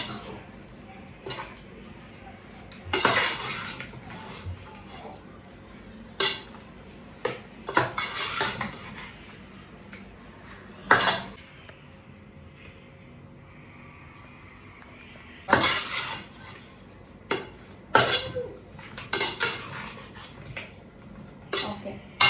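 Rice being mixed with fried onions in a pot for Hyderabad-style dum biryani: a run of scattered metal spoon scrapes and clinks against the pot, bursts of stirring separated by quieter pauses.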